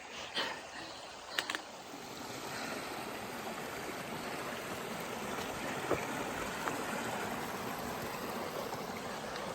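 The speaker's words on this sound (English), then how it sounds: "Second bridge crossing, so I decided to dunk my hat in the water." Mountain stream flowing beneath a trail bridge crossing on the Appalachian Trail gives a steady, broad rushing wash that stays even throughout, with a couple of brief knocks near the start.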